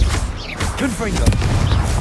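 Explosive bursts from the Confringo fire spell in Hogwarts Legacy, booming and crackling under a mix of game sounds, with a sharp loud crack near the middle; a voice speaks briefly at the same time.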